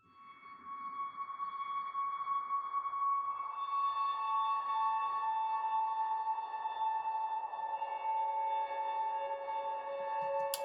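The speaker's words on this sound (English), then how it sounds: "It's basically a guitar with a lot of reverb and a lot of delay." Atmospheric electric guitar drenched in heavy reverb and delay swells in and holds long, sustained tones that smear into a shimmering wash, clear and alone.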